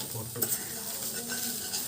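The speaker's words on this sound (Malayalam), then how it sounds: "ഇതാണ് പൊരിച്ചെടുക്കട്ടെ" An egg fries in a pan with a soft, steady sizzle. Faint scraping stirs and light utensil taps sound close but quiet throughout.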